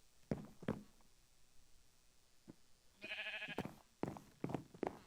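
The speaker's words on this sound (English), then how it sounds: "Oh, these sheep are stupid." A video-game sheep lets out a single sustained bleat midway through, surrounded by scattered taps and light footstep-like clicks in an otherwise quiet scene.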